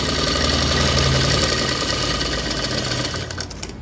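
A sewing machine stitches a blouse seam, running in a steady, continuous mechanical whir that stays loud and close throughout and tapers slightly near the end, with no talking.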